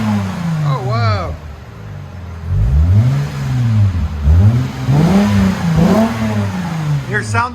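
A 2008 Lexus IS 250 2.5L V6 with a Megan Racing axle-back exhaust and Vibrant mids revs repeatedly in rising and falling sweeps, loud and close, with someone talking between revs.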